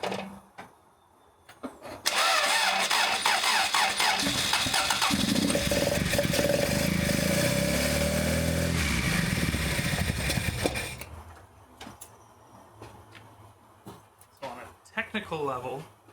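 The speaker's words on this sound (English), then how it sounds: "Sounds like it's only running on a couple cylinders though" An engine cranks and fires up after a fault, running roughly on only a couple of cylinders with a loud ragged roar for several seconds before cutting out, with voices talking around it.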